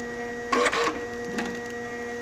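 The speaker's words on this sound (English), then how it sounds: "This is the A4+M Heat Shrink Printer Cutter Perforator." A cab A4+M heat shrink printer cutter perforator whirs in two short bursts of printing over a steady electrical hum, close and fairly loud, with a final brief burst at the end.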